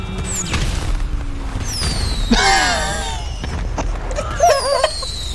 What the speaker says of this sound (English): All right, everyone switch to fireworks.